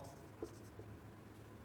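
Marker or chalk writing on a board during a chemistry lesson, a soft continuous scratching with a couple of brief taps, faint and close with no talk.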